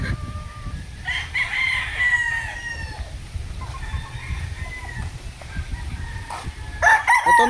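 Boston Millionaire derby-size gamefowl rooster crowing loudly and close, with long drawn-out calls near the start and again at the end, over a low background rumble.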